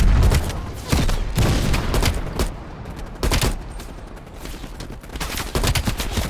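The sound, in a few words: rocket launcher fire in the video game Call of Duty: Black Ops Cold War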